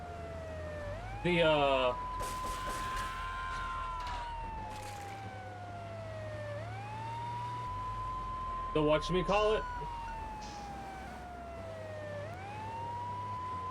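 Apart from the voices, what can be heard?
police car sirens in video game Grand Theft Auto 3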